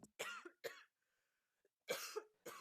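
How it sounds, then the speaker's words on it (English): Several separate coughs, close and fairly loud, a pair at the start and another pair after a short quiet pause. "I think we can forgive your coughing"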